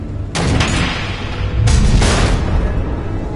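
Missiles exploding in Batman: The Telltale Series, two heavy booming blasts a little over a second apart, each with a rumbling tail, loud and with no voices over them.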